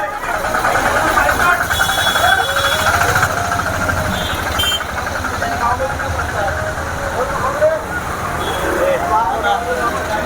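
Engines idle and rumble through a packed Shrivardhan market street the day before Ganeshotsav, a steady dense traffic din with occasional horns. Someone talks over it throughout.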